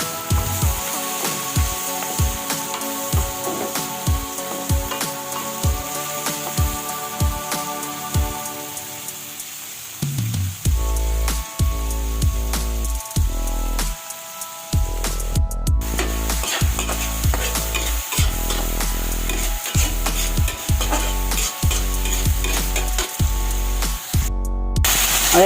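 Tomatoes drop into a pan of browned garlic and sizzle loudly and steadily, with sharp rhythmic scraping and stirring knocks from a utensil throughout.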